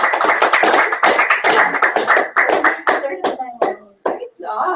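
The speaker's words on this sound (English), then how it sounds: "Give her another big round of applause" An audience claps after a talk, a dense burst of applause that thins into scattered individual claps over several seconds, close and loud.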